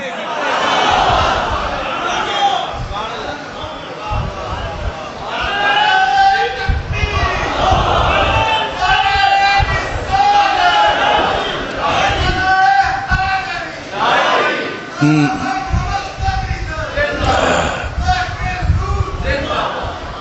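At a Muslim religious gathering, a large crowd shouts slogans in loud, repeated bursts that rise and fall. A voice comes in between the surges.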